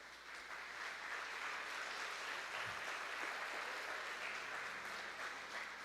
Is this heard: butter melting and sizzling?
no